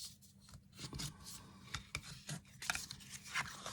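A bone folder rubs and scrapes along paper to reinforce score lines, a series of short dry swipes and rasps at close range, irregular in rhythm and fairly quiet.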